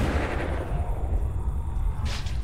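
Gunfire from weapons in the zombie survival game Dead Age: a dense, loud burst of shots and booms running steadily throughout, with a brief whooshing swell near the end.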